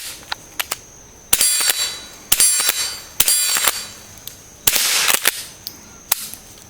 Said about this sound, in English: Runs out pretty quick when you get the firing rapid fire.